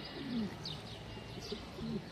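A caught stray pigeon coos in soft repeated low calls, with a faint chirp between them, close by and with no talk.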